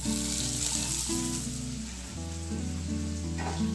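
Continuous crackling sizzle of chopped onions frying in hot oil for a cabbage kofta curry, steady and close, with a faint musical tone running underneath.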